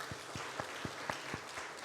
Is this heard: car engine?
no